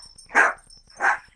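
A pet dog gives two short, close barks about half a second apart, loud and alone with no talk over them.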